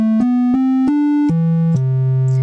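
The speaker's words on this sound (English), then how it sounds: "We also had a triangle wave," Smooth analog synth triangle-wave tone, sustained and stepping through several pitches in short held notes, clean and soft in character, heard alone without voices.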